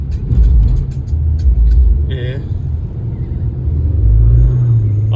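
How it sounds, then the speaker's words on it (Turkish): An Opel car slides on an icy winter road. A steady low engine and road rumble carries through, broken by a brief squeal. People talk inside the car over the noise. "Korkmayın bak araba kayıyor korkmayın."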